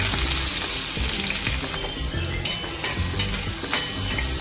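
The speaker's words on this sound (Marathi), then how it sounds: "जिरे मोहरी मस्तपैकी खमंग फोडणी झाल्यावर याच्यामध्ये आपण घालून घ्यायचा आहे कांदा" Chopped onion and green chilli hit hot oil tempered with cumin and mustard seeds, giving a loud, close, continuous sizzle with stirring scrapes, no talking.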